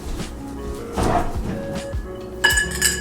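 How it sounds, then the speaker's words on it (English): Ice cubes go into a glass holding Kahlúa for a White Russian cocktail: a few close, sharp clinks and knocks in quick succession, building to a brighter rattle at the end. "Now we're going to get some ice to chill this."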